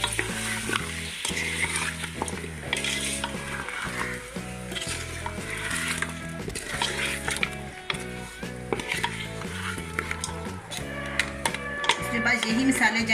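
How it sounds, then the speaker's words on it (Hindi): Mutton for namkeen gosht stir-fried in a pan, steady sizzling and frying with stirring scrapes and occasional utensil knocks running continuously throughout. "अब मैं इसको अच्छी तरह भूनती हूँ।"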